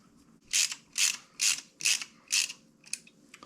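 Ratchet clicking as factory bolts are run in on a timing set for a Gen 3 LS (LM7) engine: five or six evenly spaced, crisp, close ratcheting strokes, then a couple of fainter ones, with no talk.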